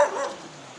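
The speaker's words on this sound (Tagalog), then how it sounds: "Ay, may aso." A single short dog bark close by on a riverside path, fading quickly into quiet background.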